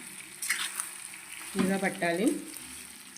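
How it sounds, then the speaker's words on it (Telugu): Chintamani chutney gets a spoon stirring hot tempering through it, giving soft sizzling and scraping in a few short bursts, close by, while someone speaks briefly over it. "ఈ పోపు అంతా కూడా ఈ చట్నీకి పట్టేలాగా ఒకసారి మిక్స్ చేద్దామండి"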